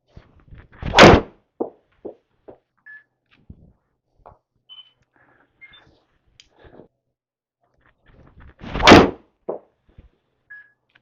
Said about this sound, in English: we've hit two shots with both balls with a 50-degree, a 7-iron and a driver